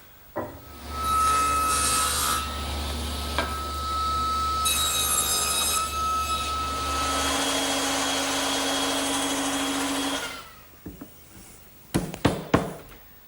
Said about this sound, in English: Now I need to cut a tenon on the end of those intermediate supports to fit into those mortises.